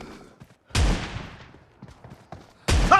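Shotgun blasts in PUBG Mobile, two sharp, loud booms spaced a couple of seconds apart, each trailing off quickly, with quieter scuffling and faint game sounds in between.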